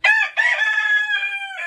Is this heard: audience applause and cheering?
no